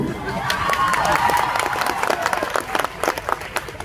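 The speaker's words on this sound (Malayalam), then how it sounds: "കൈയടിച്ചേക്കണേ" Audience applause breaks out during a comedy skit stage show, a dense steady clatter of clapping mixed with crowd cheering and voices, holding fairly loud throughout.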